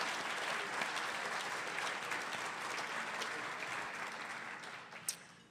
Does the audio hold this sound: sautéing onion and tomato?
no